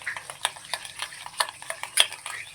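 A mayonnaise mixture being stirred in a bowl for a zinger burger, with a run of quick, close scraping clinks of a utensil against the bowl in an uneven rhythm, no talking.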